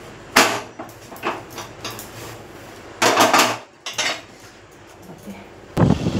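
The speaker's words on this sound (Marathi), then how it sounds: "आता किचन क्लीन करून घेते आणि भांडे एवढे घासून घेते" Metal kitchen utensils being scrubbed and handled during kitchen cleanup, with sharp clanks and knocks of pots and cutlery against each other at irregular intervals between softer rubbing sounds, close and moderately loud.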